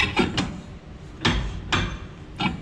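A brake drum fitted onto the rear drum brakes of a 1966 Ford Mustang, heard as several close, sharp metallic knocks and taps spaced irregularly over a quiet garage background, no talking.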